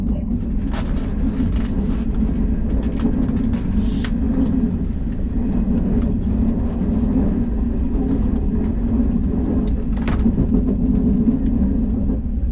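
A KTX high-speed train carriage running near Yongsan Station, a steady low rumble and rolling hum from the inside with occasional brief clicks and knocks, continuous and even with no voices.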